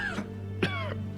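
A man coughs in a quiet indoor scene, two or three short harsh bursts spread across a brief moment, close by and clearly heard over a low steady hum.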